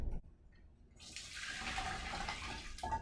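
Water pours and splashes steadily as cooked peas, carrots and broccoli are drained, a close, continuous rushing stream that starts after a quiet moment and ends abruptly near the end.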